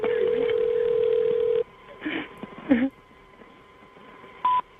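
A long steady telephone tone cuts off, followed by a few short beeps and clicks of a call connecting, then another brief tone.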